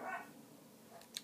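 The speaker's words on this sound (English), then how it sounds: "Maybe just wait till Spencer's done barking" A dog barks and yelps indoors, a short burst of two or three quick, fairly faint barks near the start, followed by a quieter stretch and one sharp yip at the end.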